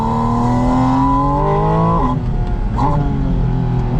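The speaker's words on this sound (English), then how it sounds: "This might be the best sounding Porsche ever made." A 2025 Porsche 718 Spyder RS engine revs hard while driving, a loud rising harmonic howl that drops at a gear change and climbs again, heard from inside the car.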